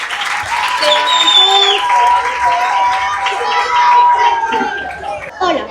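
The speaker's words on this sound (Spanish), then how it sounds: "Un aplauso por favor para estos hermosos científicos." Loud audience applause with cheering and excited children's voices for young presenters at a school science fair, continuous and close, with chatter and shouts mixed in.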